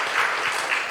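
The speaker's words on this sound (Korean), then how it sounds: "이번에 금식 가족 참여한 분들 금식 잘 감당할 수 있도록 우리 박수 한번 격려해 주시기 바랍니다." Church congregation clapping together in a Sunday worship service, a dense, steady wash of applause heard on its own for under a second.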